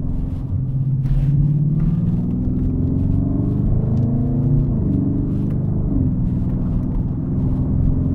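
An Audi A8 D4 with a 4.2-litre engine accelerates along a winding mountain road in dynamic mode, heard as a steady, loud low engine rumble with rising and falling pitch as it pulls through the bends, with no talk.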